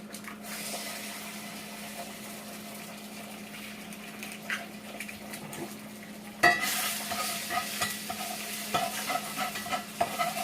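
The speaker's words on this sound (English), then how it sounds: "Ooh, that's a sizzle sound," Two eggs fry in a pan, giving a steady crackling sizzle that jumps louder partway through and then keeps popping and spitting close up, with no talk.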